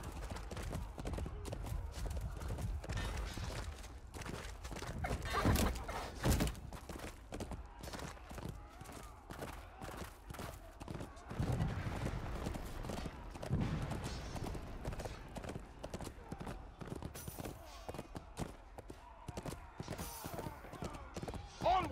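Horse hooves pound a rapid, steady clip-clop through a long gallop in the medieval combat game Chivalry II, loud and close, with bursts of battle noise and shouting mixed in.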